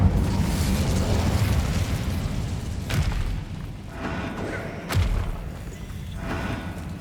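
Incendio fire spell cast in the Hogwarts Legacy video game: a dense, loud fiery roar with two sharp booming bursts, alone with no talk.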